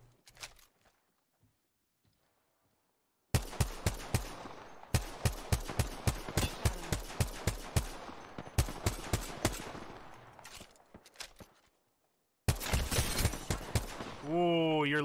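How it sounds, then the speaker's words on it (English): Rapid gunfire from an enemy team in a competitive shooter game, sharp repeated shots in quick bursts with short gaps, loud and close, then a final burst after a brief silence. "The fact that this team is still shooting at us is insane."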